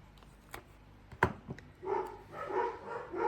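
Dogs bark several times at a distance, the barks getting louder and more continuous toward the end, after a few scattered thumps.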